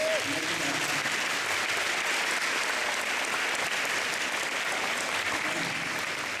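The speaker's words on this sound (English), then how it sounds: "Let's give our friends from the Boy Scouts a big round of applause." Loud, sustained applause from an audience at a school financial literacy event honoring Boy Scouts, dense continuous clapping that stays even and steady throughout.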